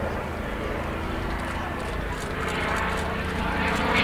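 Continuous low droning rumble of a propeller plane flying overhead at an airshow, steady and fairly loud, slightly swelling toward the end.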